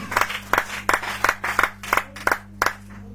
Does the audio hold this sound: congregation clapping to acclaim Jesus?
yes